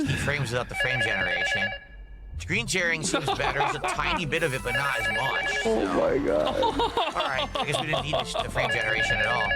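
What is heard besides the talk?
phone ringing in video game Super Mario Party Jamboree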